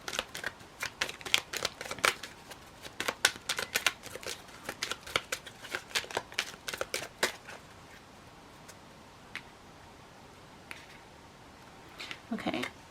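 Cards are shuffled in a rapid series of crisp riffling snaps, fairly close, then pause before a final short burst.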